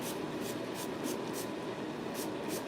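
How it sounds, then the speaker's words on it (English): Heat protectant spray for blow-drying misted onto hair in a series of short hissing bursts at a steady rhythm, close and fairly loud against a constant background hum, with no talking. "And then of course I'm gonna use our thermal blow dry heat protectant spray."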